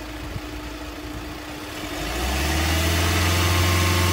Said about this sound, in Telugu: సార్ ఒకసారి ఎక్సలేటర్ ఇవ్వరా